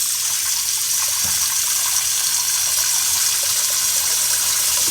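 Fresh water pours steadily over sea moss, a continuous broadband gush like a running tap filling a container, close and even throughout with no voices.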